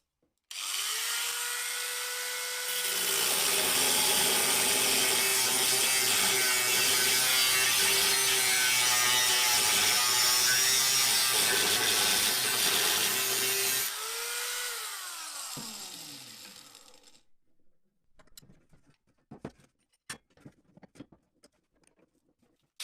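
An angle grinder spins up and grinds metal for a small rocket stove build, a loud continuous whine with rough grinding texture lasting about eleven seconds, then winding down, followed by scattered clicks and clanks.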